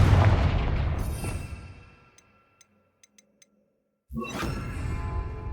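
A Confringo fire spell blast in the video game Hogwarts Legacy opens with a loud, booming roar that fades over two seconds. A few faint ticks follow in near silence, then a second strong burst erupts.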